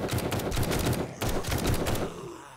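Rapid, repeated gunfire in the zombie survival game 7 Days to Die, a steady run of close, loud shots with a brief break in the middle, fading out at the end.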